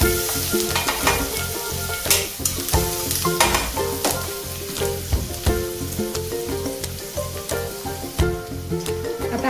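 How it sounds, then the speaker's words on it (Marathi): Onions sauté in a pan, with a constant sizzle broken by repeated sharp scrapes and clinks of a utensil stirring at an uneven rhythm. "कांदा व्यवस्थित आपल्याला परतून घ्यायचा आहे"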